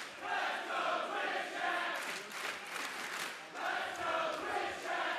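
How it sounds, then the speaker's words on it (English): A large crowd at a speedrunning charity marathon cheers and roars in steady, broadband waves that swell and ease throughout, with no speech on top. "They're cheering for y'all out there."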